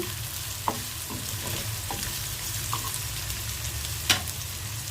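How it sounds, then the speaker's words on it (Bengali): Onions fry in mustard oil with a steady, close sizzle throughout, broken by a few sharp clinks and scrapes of a utensil against the pan, one louder near the end; no talking. "সরিষার তেল দিয়ে পেঁয়াজটা ভেজে নিচ্ছি"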